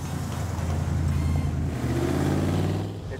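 A classic high-powered Mercedes car pulling away, its engine a steady, loud low rumble that climbs in pitch as it accelerates through the gears, with no one speaking.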